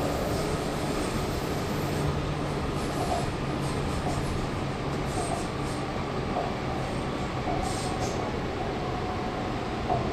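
A Sydney Metro train arriving at Rouse Hill station rumbles steadily throughout, with a continuous low roar and faint rail noise, loud and close, no voices.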